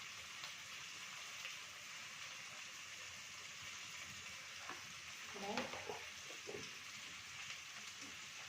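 Turmeric, chilli and coriander powders sizzle in a pan for chilli chicken, a soft steady frying hiss with a few faint clinks and stirring scrapes midway.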